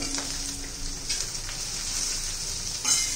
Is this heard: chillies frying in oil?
yes